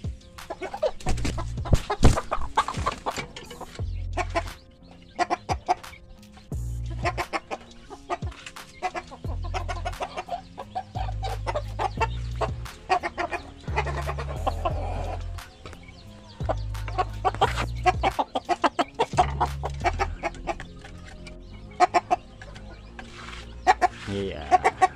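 Chickens cluck and squawk busily while being fed grain, with rooster-like calls mixed in, close and lively in bursts and repeated pecking clicks throughout; faint talk occasionally underneath.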